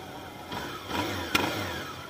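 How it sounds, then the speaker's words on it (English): A Honda 750 Nighthawk motorcycle engine with 14,000 miles runs quietly nearby, a low, steady hum that swells briefly, with one sharp tick partway through. "It's a quiet bike."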